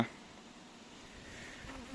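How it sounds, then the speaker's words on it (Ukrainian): A honeybee flies outdoors near acacia trees, its faint, wavering buzz drifting close then away over a quiet background, with no talking. "так гарно бджолка літає"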